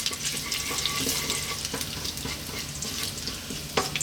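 Cumin seeds sizzle in hot oil for a fish curry, giving a dense, close crackle and hiss. A few brighter pops and spits break through near the end.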